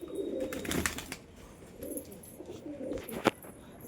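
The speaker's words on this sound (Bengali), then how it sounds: "সাদা লক্কাটার ডাক দেখুন" Soft throaty cooing from fantail pigeons in a pigeon house, a few close rolling calls, with a brief sharp knock near the end.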